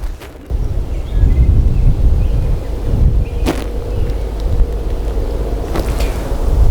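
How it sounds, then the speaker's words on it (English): Gusty wind buffets the microphone outdoors at a shooting range, a loud low rumble that swells and holds throughout, with a few sharp cracks in the distance. "the wind's starting to pick up a little bit"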